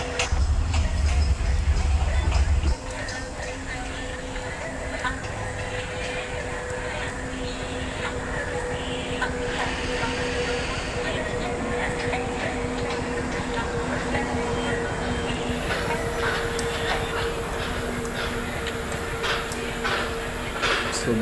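A simulated passenger train pulls into the platform at Pulgaon Junction in the MSTS train simulator game, a steady, continuous rail rumble with a sustained engine hum that holds throughout.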